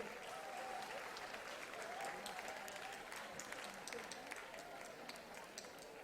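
A crowd claps steadily throughout for a school group, a dense, sustained round of applause heard from a short distance.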